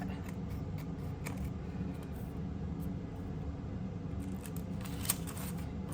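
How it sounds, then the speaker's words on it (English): Scissors cut through a paper window envelope for a junk-journal belly band, faint snipping set against a steady background hum, with one sharper click near the end. "And I'm gonna take my scissors and just cut that."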